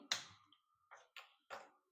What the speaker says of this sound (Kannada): ಸ್ಟೌವ್ ಆನ್ ಮಾಡ್ತಾ ಇದ್ದೀನಿ